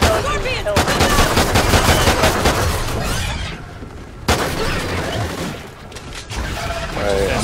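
Sustained automatic gunfire and shooting in Call of Duty Ghosts Extinction as players fire at an alien plant, dense bursts cutting out briefly and resuming, loud and close.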